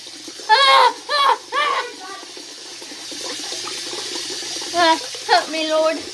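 Water runs from a tap in a steady, moderate stream beneath bursts of nearby speech, with voices talking over it.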